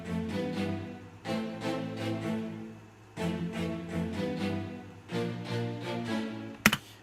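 Synth strings from an electronic song, compressed and brightened in the high end, pulse in repeated rhythmic swells with a denser, airier tone, ending with a brief sharp hit near the end.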